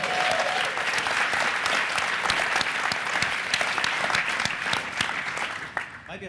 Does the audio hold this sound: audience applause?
yes